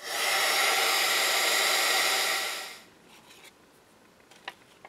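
A heat embossing tool blows hot air in a loud, steady whooshing roar for nearly three seconds, then cuts off, leaving faint room noise and a few small clicks.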